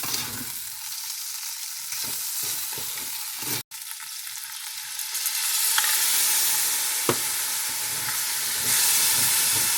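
Minced onion frying in about a third of a stick of butter for homemade beef stroganoff gives a steady, close sizzle and hiss, with a brief pause and a few stirring clicks, growing fuller toward the end.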